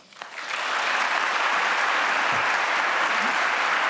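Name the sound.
audience applause welcoming Dr. Mona Hanna-Attisha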